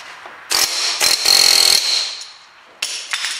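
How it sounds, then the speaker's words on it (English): A small hammer strikes to drive out the drive shaft of a Land Rover Freelander, giving several close, loud metallic bursts, a quick run of rapid taps, then a pause before more hits. "Just use my little hammer."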